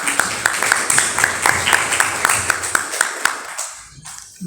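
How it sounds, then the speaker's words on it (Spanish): A small audience claps at a cultural event, the sharp hand claps falling into a loose rhythmic beat before stopping abruptly near the end. "Un aplauso."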